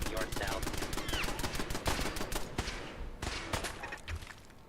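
Rapid pistol shots from Kellogg's pistol in Fallout 4, a dense run of sharp cracks repeating for several seconds over busy game noise, with a brief pause near the middle.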